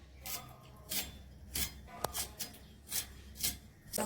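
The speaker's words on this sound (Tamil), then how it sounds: "இந்த மாதிரி கட் பண்ணிக்கலாம்." Okra being cut into round slices on a kitchen board: about seven crisp knife strokes at an even, unhurried rhythm, close and fairly quiet, with no talk.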